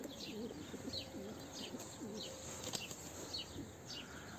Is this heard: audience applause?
no